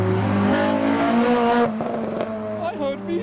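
Honda VTEC engine revving hard at a car meet, a rising and falling rev with crackles amid general car noise and crowd chatter, fairly close.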